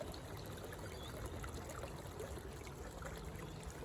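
Water trickles steadily through a homemade garden stream with a bog filter beside a new pond, a soft continuous babble heard alone at low level.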